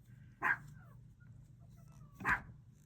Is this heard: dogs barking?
yes